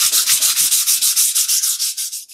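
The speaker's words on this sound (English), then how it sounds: "I sand it." Steady rhythmic strokes of sandpaper rubbing across a watercolor painting board, about fifteen even back-and-forth passes, close and loud with no voices.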